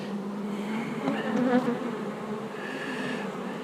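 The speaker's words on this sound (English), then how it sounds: "These bees are already getting slightly pissy because they realize they don't have a queen in here." Honey bees buzz in a queenless hive, a dense, steady, close drone that swells briefly and then settles, with no voices over it.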